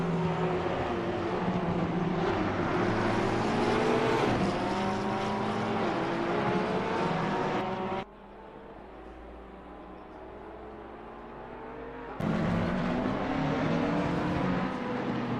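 Audi race cars circle the Laguna Seca track in a sim racing game, their engines a steady, loud droning whine that drops to a quieter, duller drone for a few seconds mid-clip before surging back.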